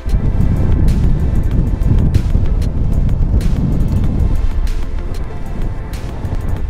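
Strong wind blowing across an outdoor golf course, a loud continuous rumble and buffeting against the microphone that holds steady throughout.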